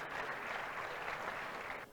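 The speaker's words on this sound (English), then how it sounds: "Can we please applaud this RI President?" An audience at a Rotary International district event applauds the visiting RI President, a dense, steady wash of clapping for about two seconds, moderately distant, with no speech over it.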